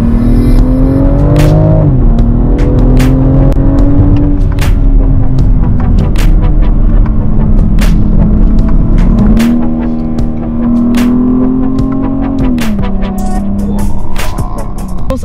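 A 510 PS BMW X3 M Competition SUV engine pulls loudly under hard acceleration while driving, its tone climbing through several gears with brief dips at each shift and a constant deep rumble.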